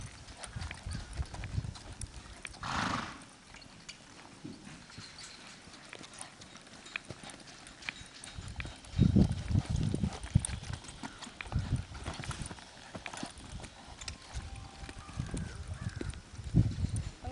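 Horse hooves clip-clop steadily on the ground during a three-barrel training drill, passing through quieter and louder stretches as the horse circles, with a few heavier bursts of footfalls along the way.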